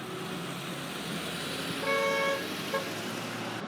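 A car passes by on a road in rural Citrus County, Florida, a steady broad road rumble with a brief double horn toot midway, heard outdoors at moderate distance.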